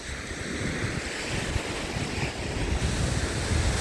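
Steady surf and gusting wind roll along Woodbine Beach in Toronto in winter, a continuous close roar of breaking waves with buffeting wind noise on the microphone and no voices.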